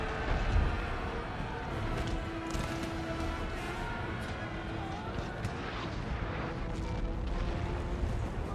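Cannon artillery booms during a Napoleon: Total War battle for Rennes on the British campaign, with repeated dull blasts scattered over a steady, rumbling battlefield din at moderate volume.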